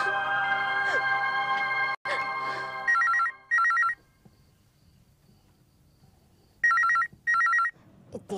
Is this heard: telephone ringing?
yes